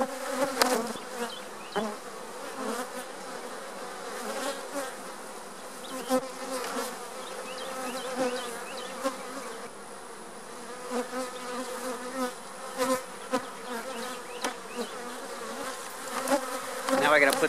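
Honey bees drone continuously around a hive being split, a dense, close buzzing with occasional clicks and knocks of handling.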